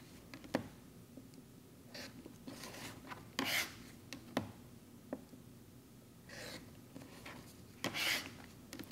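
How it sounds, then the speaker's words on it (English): Rotary or blade trimming of quilt fabric edges around a pattern piece, heard as intermittent soft rasping cuts and scrapes, some brief and some drawn out, close and fairly quiet with no talk. "And here we go with the trimming."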